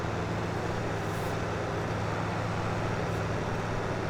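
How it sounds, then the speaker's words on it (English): A baler runs behind a tractor in a farming simulator game, producing a dense, continuous mechanical rumble and whir at steady loudness with no talking. "Turn the baler on."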